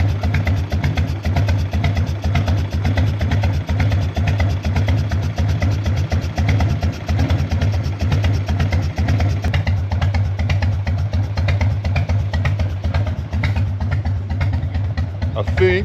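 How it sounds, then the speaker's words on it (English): Close and loud, a Harley Evo Heritage 1340 engine idles with a deep, steady pulsing thump that carries on evenly throughout. "Maybe it's a bit slow, the idle. Let's turn this up a little bit."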